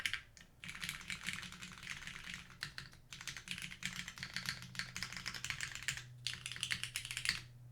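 Typing on a Stratum 80 mechanical keyboard fitted with resin keycaps, a fast continuous patter of close clicks in bursts separated by brief pauses.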